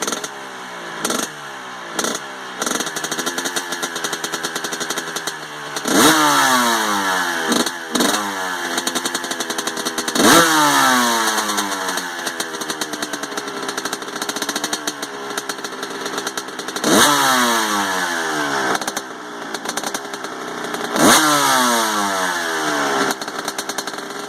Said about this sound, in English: there's the bike running. It's going to need some carb adjustment.